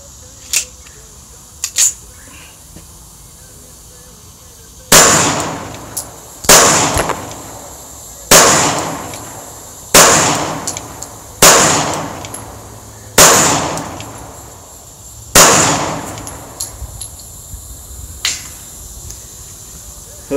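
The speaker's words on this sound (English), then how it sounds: "So I'm going to shoot my girsan with the new mags." Seven loud, sharp pistol shots from a Girsan 1911 fed from new Metgar magazines, fired in a steady string about one to two seconds apart, each with a short echoing decay, after a few faint clicks and no talking.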